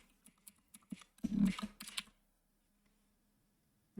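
A password is typed on a computer keyboard: a quick burst of close, soft key clicks lasting about two seconds, then quiet.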